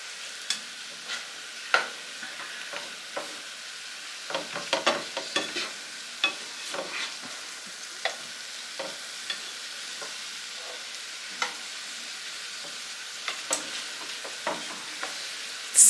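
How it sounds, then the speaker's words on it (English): Beef stew meat frying in a pan is stirred and broken apart with a utensil, a string of sharp close scrapes and taps over a quiet sizzle. "keep breaking it apart as it's cooking so it doesn't just try to cook together in a"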